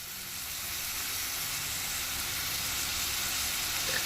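Onions with salt and turmeric sizzle steadily in a hot pan, a continuous close frying hiss that holds even throughout with no talking.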